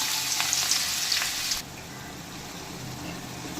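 Finely chopped onions with whole spices sautéing in hot oil, a steady close sizzle with light stirring that sounds louder at first, then settles into a softer, continuous frying hiss.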